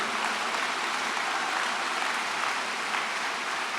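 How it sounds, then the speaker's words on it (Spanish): Congregation applauding at a diocesan Pentecost Mass, a steady dense wash of clapping that holds evenly from start to finish with no talk over it. "Dele el aplauso a Cristo y dígalo otra vez."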